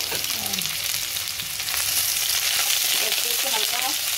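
Chopped local desi onions sizzle steadily in hot oil in a pan for a turnip bhaji, with a loud, dense crackling hiss and a few stirring scrapes, and no voices.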